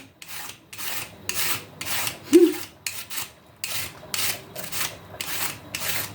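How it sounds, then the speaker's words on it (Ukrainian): A knife thinly slicing cabbage for a marinated salad, making a steady, rhythmic series of crisp, rasping cuts roughly every half second, close by and with no talking. "гляньте, як тоненько капусточка ріжеться"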